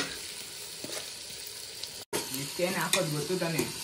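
Masala for chicken biryani sizzles loudly in a pot while being stirred, with a continuous frying hiss and scraping strokes that grow busier after a brief cut partway through.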